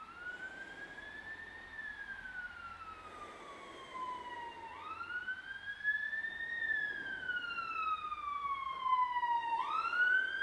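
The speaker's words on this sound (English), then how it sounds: "Sorry if you can hear those sirens" Emergency vehicle sirens wail, rising and falling slowly in long sweeps, heard at a distance outdoors and growing slightly louder.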